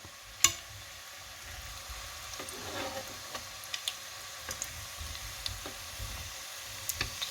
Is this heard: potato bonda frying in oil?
yes